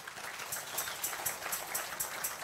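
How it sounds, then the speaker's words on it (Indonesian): Congregation clapping at a Christian revival service, a busy moderate patter of many hands with some sharper claps standing out, steady throughout. "Tepuk tangan buat Tuhan Yesus."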